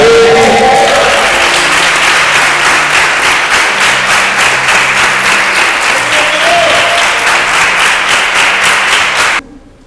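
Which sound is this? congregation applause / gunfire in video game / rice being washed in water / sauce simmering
congregation applause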